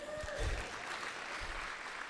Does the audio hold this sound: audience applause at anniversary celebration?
yes